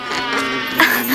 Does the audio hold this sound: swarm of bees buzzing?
yes